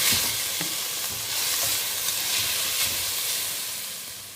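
Meat browns in a pot with onion, bay leaves, cardamom and cloves, giving a dense, steady sizzling hiss with occasional faint stirring knocks, nearby and without speech.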